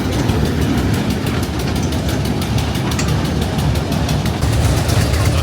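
A small kids' ride train at a fairground chugs and rumbles steadily, with a rhythmic clatter of wheels running close by.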